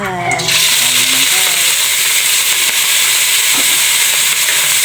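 Vegetables fry in cooking oil with a loud, steady, close hiss and sizzle that fills the whole stretch, with a few faint tones at the start.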